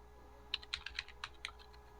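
Someone types a password on a computer keyboard, about seven quiet, crisp keystrokes in an uneven rhythm over a faint room hum.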